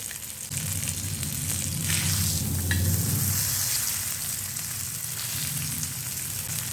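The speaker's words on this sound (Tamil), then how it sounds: "மீடியம் ஃப்ளேமில் வச்சு வறுத்துக்குங்க." Fish fries in oil over a medium flame, giving a steady, close, continuous sizzle with crackling and no voices.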